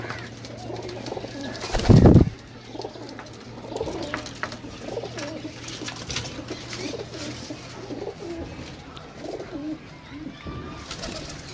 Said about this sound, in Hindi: रामपुरी कबूतर जनाब चेक करो